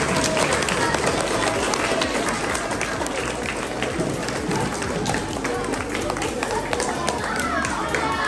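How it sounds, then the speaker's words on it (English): At a fifth grade school assembly, a crowd gives the fifth grade teachers a round of applause: steady, busy clapping mixed with shuffling feet and children's chatter underneath. "Let's give a round of applause for our fifth grade teachers."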